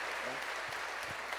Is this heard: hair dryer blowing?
no